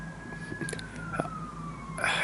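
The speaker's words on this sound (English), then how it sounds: "damn siren" Emergency siren wailing faintly in the distance outdoors, a long steady tone slowly falling in pitch, with a voice speaking near the end.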